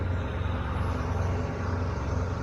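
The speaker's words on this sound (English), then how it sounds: "I'm doing a forced regen on the truck right now. That's why it's kind of noisy." A semi truck idles steadily through a forced DPF regeneration, its diesel engine giving a loud, constant low rumble with a droning hum and no breaks.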